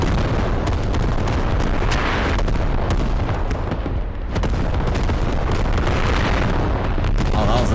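Artillery fire exploding in a multiplayer war game: a sustained, loud rumbling barrage of booms and crackling blasts, with a brief dip midway before the roar resumes, thick and close throughout.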